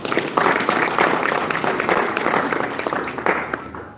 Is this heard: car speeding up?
no